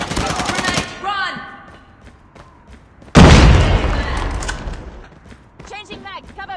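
In a night-mode match of Call of Duty Mobile, a grenade blasts loudly and close with a sudden deep boom that rumbles away over a few seconds, following a burst of rapid gunfire, with short bits of talk before and after.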